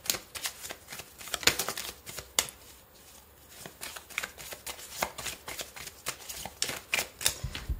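Tarot cards shuffled by hand for a weekly card reading, a continuous run of quick papery riffles and flicks with irregular sharper snaps, close and fairly quiet with no talking.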